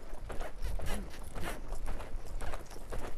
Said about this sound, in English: Notice when I went to canter him off,